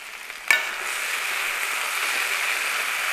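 Fried idly pieces drop into a hot pan for idly manchurian with a sharp clatter, then a steady, even sizzle of frying continues underneath, close and moderately loud.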